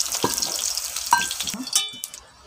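Elephant foot yam frying in oil in a wok, with a close, quiet sizzle broken by a few sharp stirring scrapes and clinks over about two seconds, and no talking.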